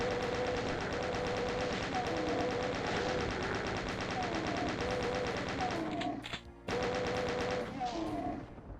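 Chaingun fire in ULTRAKILL: loud, relentless rapid-fire rattling that runs almost unbroken, stops abruptly for a moment, then resumes, layered with game music and effects.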